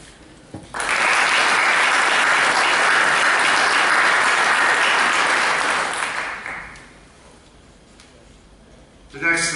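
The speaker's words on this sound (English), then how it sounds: "I'd like to give Sandra a round of applause" At a school district board meeting, an audience gives a steady round of applause, loud dense clapping sustained for about six seconds before tapering off into quiet room tone.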